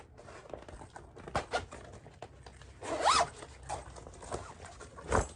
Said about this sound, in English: So there's a zipper here,